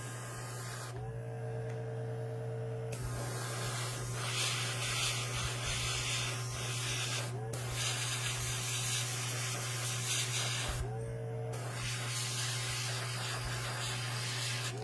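Airbrush spraying paint thinned down with airbrush cleaner and thinner onto a HeroQuest warlock and demon miniature, a steady hiss broken by three short bursts and pauses, close up over a constant low compressor hum.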